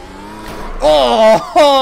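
An F1 car spinning at Bathurst in a racing video game, with a brief rising engine whine that drops as the car loops, then a second sharp engine note, loud and close.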